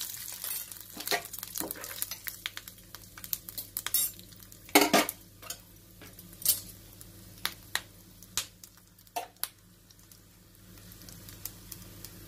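Cumin seeds tipped into hot oil for a Marathi ridge gourd bharit, giving scattered sharp crackles and pops over a low sizzle, with a cluster of louder clinks and spits partway through.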